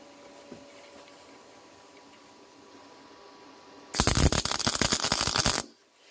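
A MIG welder plug welding a hole with the power turned up slightly, a quiet hum that bursts into a loud, harsh crackling buzz for under two seconds before cutting off abruptly.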